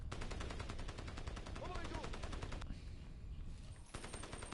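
Rapid automatic gunfire from the video game Crysis rattles loudly and steadily for several seconds, breaks off briefly, then resumes, with no voices over it.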